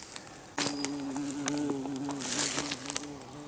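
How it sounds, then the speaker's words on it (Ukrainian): A bumblebee buzzes in flight outdoors among spring flowers and fungi, a close, steady droning hum that starts abruptly and wavers as it moves. "О, літає. Де ти тут? Дружбан джміль."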